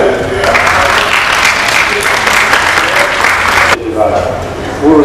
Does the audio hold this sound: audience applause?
yes